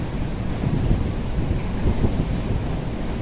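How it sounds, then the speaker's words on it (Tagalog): Continuous heavy rush of ocean waves and surf with gusting wind buffeting the microphone, loud and close, with no voices. "Lalaki ng alon"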